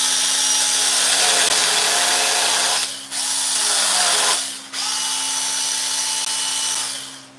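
A small chainsaw with a guard fitted over the bar runs steadily while carving wood, a loud close buzzing engine that drops out briefly twice, near 3 and 4.5 seconds, before roaring on again.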